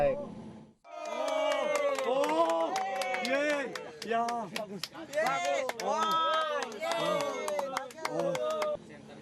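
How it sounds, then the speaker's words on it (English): A crowd of people on a mountain climb in Lombok cheers and shouts together loudly and continuously for several seconds, after a brief pause at the start. "They all cheer when I safely make it up."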